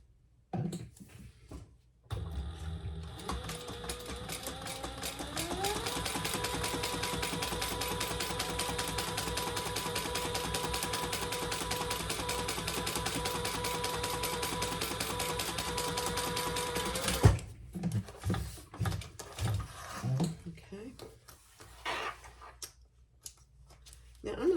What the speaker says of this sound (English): I'm just going to sew across the top